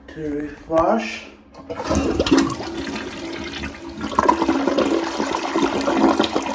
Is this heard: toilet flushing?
yes